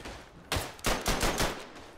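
A Madsen machine gun firing in the World War I game Verdun, a short burst of about five or six loud, rapid shots at close range, alone without talk.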